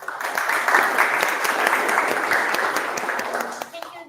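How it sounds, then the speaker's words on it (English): Audience applause at a Python conference session at PyCon APAC 2024, a dense wash of clapping from a room of listeners that stays full and steady before tapering off at the end. "Please give a round of applause again to Mr."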